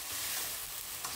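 Sarson ka saag, mustard greens, is stirred in a pot, giving a brief close-up sizzling, scraping shuffle with no talking.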